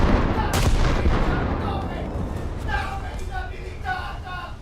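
A warship's secondary magazine detonates in a naval video game with a sharp blast, followed by a rumbling decay and scattered gunfire-like pops, while a voice talks faintly.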